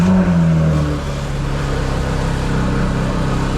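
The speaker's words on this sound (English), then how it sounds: "I'm gonna attempt to start the car" A Porsche GT3 engine catching and settling into a steady, fairly loud idle right after a battery replacement, a continuous rumble that stays even throughout.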